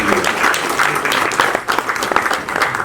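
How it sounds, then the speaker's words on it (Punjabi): A theatre festival audience in Patiala breaks into loud, sustained applause, dense clapping filling the space with slight swells and dips throughout. "ਇੱਕ ਵਾਰ ਜ਼ੋਰਦਾਰ ਤਾਲੀਆਂ"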